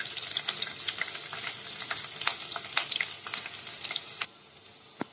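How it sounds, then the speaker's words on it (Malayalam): Crushed shallots and curry leaves fry in hot coconut oil, giving a close, steady sizzle dotted with sharp crackles and spits, then dropping quieter near the end; nobody speaks. "കറിവേപ്പില നന്നായിട്ട് മുരിഞ്ഞു വരുന്ന ടൈമില് ചെറിയുള്ളി ചതച്ചത് കൂടെ ഇട്ട് കൊടുക്കാം."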